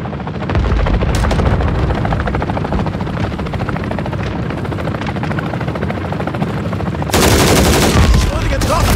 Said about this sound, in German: Verbündete Drohne im Einsatz.